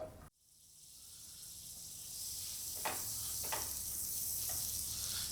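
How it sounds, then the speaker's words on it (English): Butter melting and foaming in a pan for scallops, a soft, steady hiss that swells after a brief hush, with a few faint clicks and pops, close and quiet with no talking. "You make your butter melt, just foam in"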